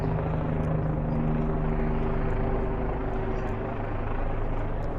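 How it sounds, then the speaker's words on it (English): A helicopter circles overhead in Bath Beach, Brooklyn, droning loudly and steadily, its rotor and engine roar continuous throughout with no pauses. "I got this helicopter right over my head."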